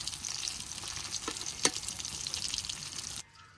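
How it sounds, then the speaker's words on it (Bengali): Small hilsa fish fry in hot oil in a village kitchen, giving a close, steady sizzle and crackle with one sharper spit midway, cutting off abruptly near the end. "হন তেলে মাছটি ভাইজা নেই।"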